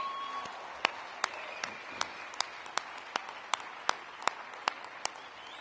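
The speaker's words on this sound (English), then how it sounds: "Can we just give another round of applause to Michael York?" Audience applause at an awards dinner for car dealers, a continuous clapping wash punctuated by sharp, regular louder claps close by.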